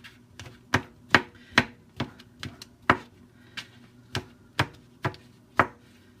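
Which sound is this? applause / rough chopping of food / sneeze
rough chopping of food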